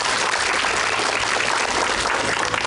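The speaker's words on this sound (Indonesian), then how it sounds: "Boleh tepuk tangan." A studio audience at an Indonesian television charity show claps in a thick, steady burst of applause that fills the whole moment, loud and close, with no voices on top.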